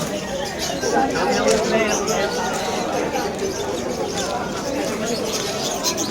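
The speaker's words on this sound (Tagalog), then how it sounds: "Mga ibon ni paring Erneng" Pet birds such as doves and pigeons coo among the stalls of the Malabon pet market, a dense steady murmur of calls mixed with crowd chatter and nearby voices.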